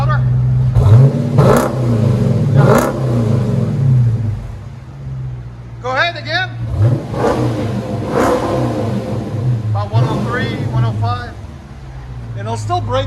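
Dodge Charger with a 5.7L HEMI V8 and Flowmaster Flow FX exhaust, revved several times close by, rising to loud bursts over a deep idle rumble, with people talking over it.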